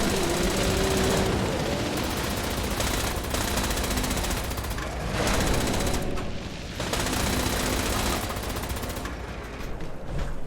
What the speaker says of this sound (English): I'm getting shot by these turrets.